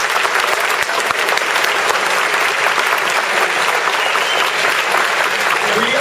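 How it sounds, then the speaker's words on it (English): Sustained audience applause fills a school spring concert hall, dense steady clapping at full strength throughout, greeting an assistant band director. "Please give him a big round of applause"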